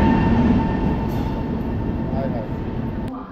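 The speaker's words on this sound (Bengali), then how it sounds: "তো ফাইনালি আমাদের ট্রেন চলে এসেছে এখানেই সামনে" A Vande Bharat Express pulls into Kamakhya station, its steady rumble of rail noise filling the platform continuously and fading a little toward the end, with talk heard over it.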